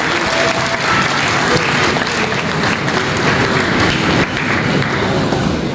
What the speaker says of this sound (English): yes, please, round of applause for yourselves.